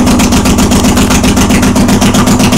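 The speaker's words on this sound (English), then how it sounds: "Here we are with our 86 Honda Shadow open exhaust bobber project." A 1986 Honda Shadow 1100 bobber with open exhaust and freshly jetted carburetors runs close by, its loud, steady, rumbling idle beating in a fast, even rhythm with a slight miss.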